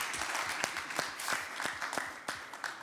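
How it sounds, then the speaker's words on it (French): One person claps at a conference climate summit, with a thin run of separate claps at an uneven pace in a quiet hall. "Il y a une personne qui m'applaudit."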